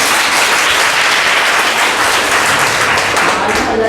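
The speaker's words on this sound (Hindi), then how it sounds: "आप लोग ताली बजाने में कंजूसी न करें, ताली जोरदार बजाया करें" Audience applause at a college awards ceremony, dense and loud continuous clapping from a large crowd lasting throughout, with no speech over it.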